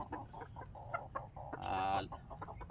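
A chicken on a farm clucks in short, soft bursts, followed by a longer drawn-out cackle, with faint rustling in the background.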